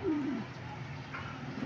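Racing pigeons coo close by at a race release and loft arrival in Apalit, Pampanga, a short low descending coo opening over a steady murmur of other birds.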